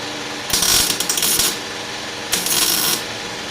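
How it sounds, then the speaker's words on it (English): Tack welding on the exhaust pipe of a 1978 Dodge W150 Power Wagon truck: two bursts of harsh crackling arc, the first about a second long and the second shorter, loud and close, with quiet gaps between. "That's what you call tack welding"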